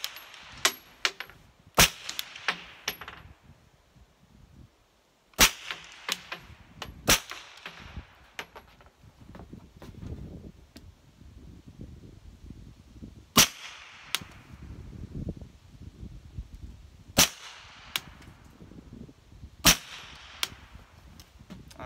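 A 9mm firearm at an outdoor shooting range fires sharp, widely spaced single shots, each loud crack followed by a brief echo, about ten in all.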